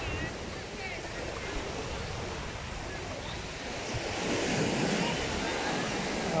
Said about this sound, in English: Diani Beach.